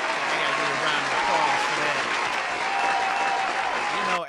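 Sustained audience applause, a dense steady clatter of many hands clapping, close and loud throughout with no voices over it.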